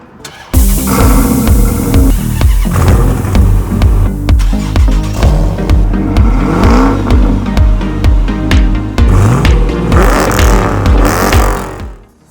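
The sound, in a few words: sports car engines starting and revving, including 2015 Chevrolet Camaro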